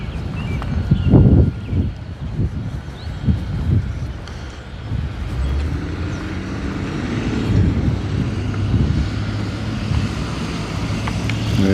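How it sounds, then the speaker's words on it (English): Wind blows outdoors on a mild morning walk, a loud, rumbling rush that gusts and buffets close to the microphone, swelling and easing over several seconds with no talking. "The wind blowing."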